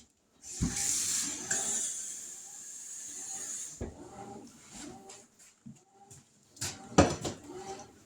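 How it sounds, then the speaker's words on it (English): Water runs from a kitchen tap into a cup, a hissing stream at close range for about three seconds, followed by scattered clinks and handling knocks. "So let me get a cup of water."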